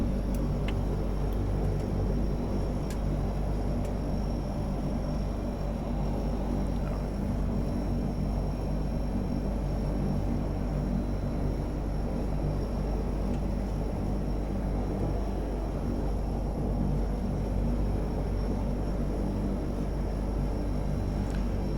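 In the cockpit of a Convair CV580 turboprop airliner, a steady, loud low engine rumble and whine fills the space throughout, continuous and unchanging, with no voices heard.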